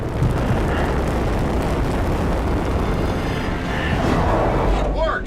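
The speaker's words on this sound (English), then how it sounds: "Sir, we can shoot the vents to create cover." Shot vents explode in a Star Trek video game, a loud continuous roaring blast that rumbles on for several seconds before fading, with a short whooshing effect at the end.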